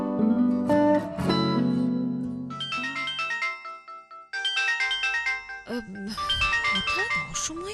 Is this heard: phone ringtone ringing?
yes